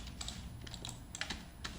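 Computer keyboard keys pressed as shortcuts while modeling in Maya, a few quiet close clicks and taps over a low room hum, with no voices.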